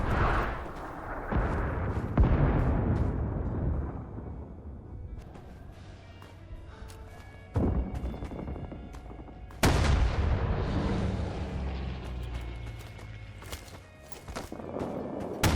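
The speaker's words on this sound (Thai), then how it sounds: "เป็นอาร์ตี้" Heavy artillery booms in a Rising Storm 2: Vietnam battle, several deep blasts spaced apart with rumbling tails and scattered distant gunfire between them.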